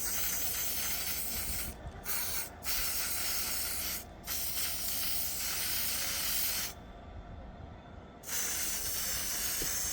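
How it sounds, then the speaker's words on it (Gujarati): Aerosol spray paint coating a garden frame black, heard as long continuous hissing bursts broken by short pauses, close and steady, with no talking. "તો ચલો આપણે પેઇન્ટ કરી નાખીએ."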